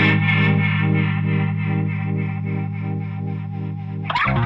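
Electric guitar through a Pigtronix Rototron analog Leslie simulator pedal at its fastest speed, one held chord warbling with a rapid, even rotary pulse, alone and fairly loud, ending in a short pick scrape.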